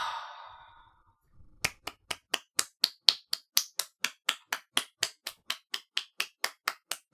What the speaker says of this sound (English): that was a clap. I was clapping my hands.